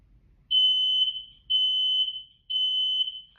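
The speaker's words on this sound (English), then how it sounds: "That's a fire alarm." A fire alarm goes off indoors with three long, piercing, even-pitched beeps, each lasting about half a second and spaced by short silent gaps, loud and close.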